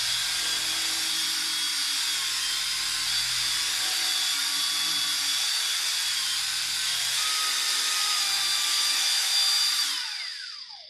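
A high-pitched power buffer whines steadily while polishing compound into painted surface, a continuous loud drone that winds down sharply at the end.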